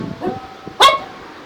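A single sharp dog bark rings out close by, preceded by some faint low murmuring.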